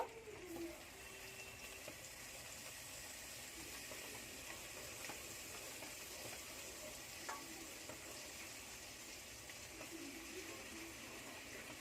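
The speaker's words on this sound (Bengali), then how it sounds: "এবার এগুলোও তেলে ভেজে নেব" Eggplants stuffed with egg fry in oil with a steady, soft crackling sizzle that carries on evenly throughout, fairly quiet, with a few faint clicks and scrapes of a utensil.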